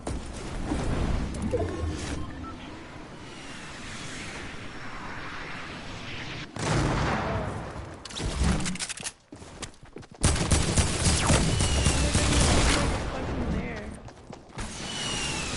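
Loud gunfire and explosive blasts in a Fortnite battle royale match, bursts of shooting and booms stacking into a dense, continuous barrage with brief near-silent gaps, voices talking over the action.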